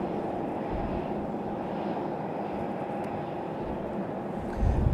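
Airliner departing Raleigh Durham International airport for Dallas Fort Worth, a steady broad jet roar heard from a distance, moderately faint and unbroken, with a slight swell near the end.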